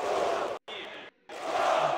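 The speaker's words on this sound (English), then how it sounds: "they started the OG chant, and then instantly there's a boo" A packed esports arena crowd at a Dota 2 grand final roars in loud chanting bursts, cut by brief silent gaps, with a boo rising near the end.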